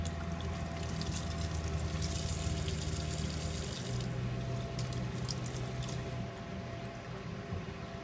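Hot water running from a sink tap inside a 2017 Promaster ice cream truck, fed by a pump and on-demand heater, a steady continuous splashing stream with a low pump hum beneath it, close and constant.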